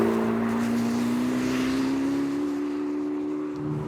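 Turbocharged LT7 V8 of a Corvette ZR1X accelerating hard, a steady loud engine drone rising gradually in pitch for several seconds with no talk over it.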